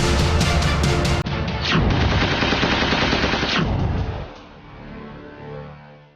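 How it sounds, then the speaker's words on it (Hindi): Rapid bursts of gunfire crack loudly in quick succession, with heavy booming shots and echoing reports that fade into a quieter, rumbling tail. "ट्रिगर दबाकर गोलियां चलाना"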